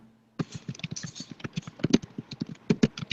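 A computer keyboard clatters with fast, uneven keystrokes after a short silence, crisp and close, the clicks bunching into quick bursts with a few heavier taps.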